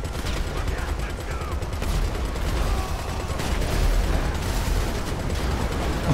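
Tank cannon blasts and gunfire in GTA 5, a continuous rumbling barrage of explosions and shots with low booms building toward the middle, loud and close.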